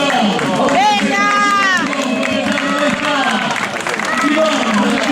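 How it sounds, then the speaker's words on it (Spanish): Spectators at a popular fun run in Pobra do Caramiñal clap and cheer as a runner finishes, loud continuous applause under an announcer's voice and crowd chatter. "Un aplauso para Iván. ¡Venga!"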